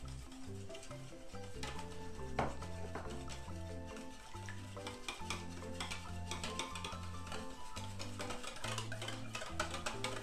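Brioche hot-dog bun dough being mixed by hand with milk and egg in a bowl, giving a steady scraping stir with light clinks of utensil on the bowl throughout, beneath a continuous tonal music backing.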